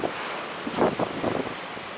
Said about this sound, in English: Oh, we got some nice waves breaking here.